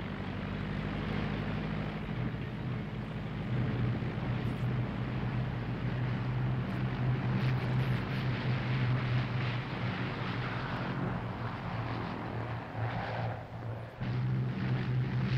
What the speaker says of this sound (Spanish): Despegue de las escuadrillas. Fiat, CR-32.